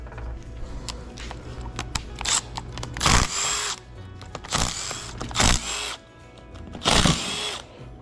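Power tool bursts loosening the four reverse plate screws on a Velvet Drive marine 10-17 transmission with a 3/8 12-point socket, several short whirring runs with pauses between, close and fairly loud.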